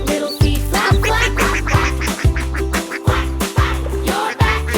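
Ducks quack in steady repeated bursts through a kids' counting song, loud and close over a rhythmic backing beat, with no talking.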